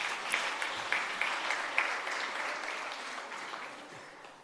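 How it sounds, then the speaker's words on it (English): A workshop audience applauds steadily throughout, a dense, sustained round of clapping at moderate level that gradually tapers near the end. "Another round of applause for the Prof."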